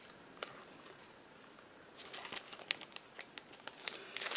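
Plastic packaging of rub-on transfer stickers crinkles and crackles as it is opened, a quiet rustle at first, then a burst of sharp close crinkles and snaps.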